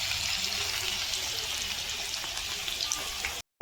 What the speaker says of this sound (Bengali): আর এই যে আলুটা এখন ভাজা হচ্ছে